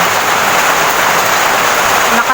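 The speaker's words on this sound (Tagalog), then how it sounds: "Lakas ng ulan" Heavy rain pours steadily in a dense, loud hiss with no break.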